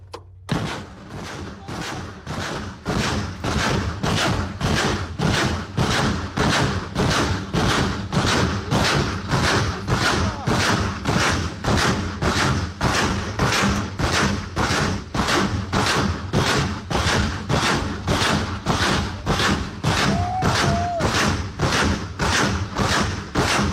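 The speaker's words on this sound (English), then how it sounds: "Ukrainian BM-21 Grad firing at full salvo of 40 rockets." Ukrainian BM-21 Grad multiple rocket launcher loosing a full salvo of 40 rockets, a rapid, evenly spaced string of loud booming launches that keeps going almost without a break for over twenty seconds, with no talk over it.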